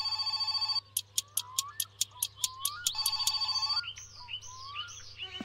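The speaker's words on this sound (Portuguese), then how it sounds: "esse telefone tá tocando toda hora" A telephone rings inside the video game My Summer Car, a rapid series of sharp electronic bell pulses after a steady tone, followed by chirping warbles, with a low constant hum underneath.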